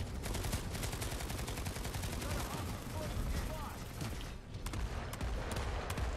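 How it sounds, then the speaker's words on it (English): Dense, continuous gunfire from the Planetside 2 battlefield, rapid bursts and volleys layered into a steady loud clatter for the whole stretch, with occasional brief lulls. "I'm getting shot from behind."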